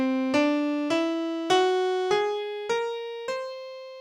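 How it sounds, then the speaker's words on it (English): A whole-tone scale played on a plucked or struck pitched instrument, six clear notes rising evenly in whole steps about every half second, each ringing and decaying before the next. "what if I created a different kind of scale that only had whole steps? And that scale sounds like this."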